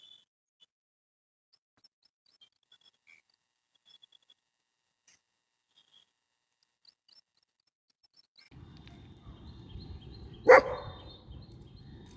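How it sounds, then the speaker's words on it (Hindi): Fierce dogs outside a gate, heard after a long near-silent stretch as a faint distant commotion with one sharp, loud bark-like burst, then ongoing low scuffling noise. "इस गेट के बाहर ये कुछ खूंखार कुत्ते इस तरीके से आ जाते हैं"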